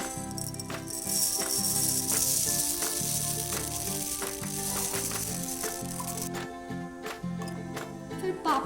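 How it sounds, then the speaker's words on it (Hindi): Puffed rice pouring into a bowl for kids' bhel puri, a steady dry rattling rustle that runs throughout, with background music playing along. "सबसे पहले हम डालेंगे पफ्ड राइस"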